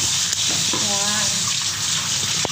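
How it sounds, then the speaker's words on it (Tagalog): Running tap water splashes steadily while a black chicken is washed in a sink before making Chinese herbal soup, a continuous close gush with a voice speaking briefly over it. "Huhugasan po muna po yung dark chicken."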